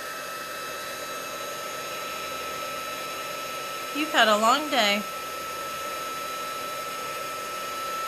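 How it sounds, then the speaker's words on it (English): A heat gun blows a steady loud whooshing roar throughout, used to melt embossing powder, with a short spoken phrase partway through. "So I'm going to grab my heat gun, and I'm just going to get this done real quick"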